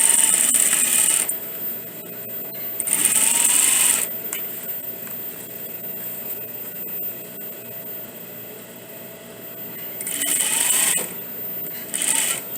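A sewing machine stitches a collar into a bodice in several short bursts of fast, whirring stitching, separated by quiet pauses, close and fairly loud.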